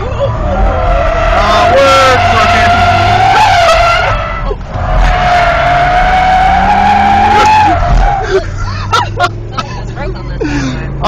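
BMW M5 on a hot lap with a professional driver, engine roaring loud and continuous while tires squeal in long sustained screeches through the corners, with brief shouts and exclamations from passengers inside the car.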